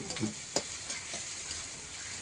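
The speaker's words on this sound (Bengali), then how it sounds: "আলু ভাজা তেলে দিয়ে দিচ্ছি পেঁয়াজ কুচি" Chopped onion fries in oil in a pan, giving a steady close sizzle and hiss throughout, with a sharp clink of stirring near the start and a few softer scrapes.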